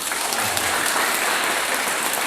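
A crowd at a youth camp breaks into dense, steady applause, many hands clapping together loudly and evenly for a couple of seconds without a pause.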